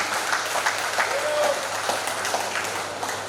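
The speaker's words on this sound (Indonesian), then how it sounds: "Tepuk tangan untuk putra-putri kita." An audience at a Batak Pesta Bolon festival gathering in Jabodetabek claps for their young people, a full, continuous burst of applause with a brief whistle-like tone in the middle and faint crowd murmur beneath.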